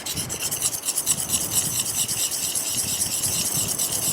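A knife blade being stroked across the 1000-grit side of a sharpening stone wetted with lapping fluid, giving a continuous close rasping scrape with a fast back-and-forth rhythm outdoors.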